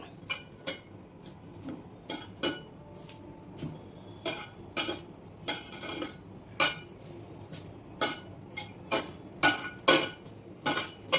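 A spoon works coconut laddu mixture around a bowl, making sharp metallic clinks and scrapes in an uneven, repeating rhythm, close and fairly loud.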